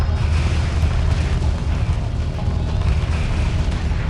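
Ships explode under sustained gunfire in the space strategy game Homeworld Remastered, a dense, continuous, loud rumble of booms and blasts that runs through the whole stretch.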